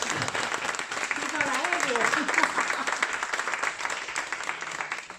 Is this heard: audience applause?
yes